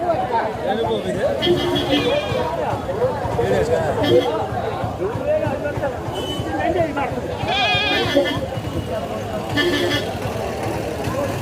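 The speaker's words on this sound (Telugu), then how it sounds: "అంటే చాలా ఎక్కువ ఉన్నాయి అన్నమాట మేకలు గొర్రెలు అవి" Goats and sheep bleat repeatedly amid a busy weekly livestock market at Kothavalasa, their calls rising over constant crowd chatter, people talking and an occasional vehicle horn.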